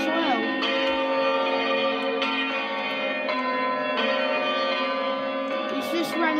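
Church bells ring at All Saints Maidstone on Boxing Day, with evenly spaced, sustained, ringing strikes that overlap into a continuous resonant hum, close and loud.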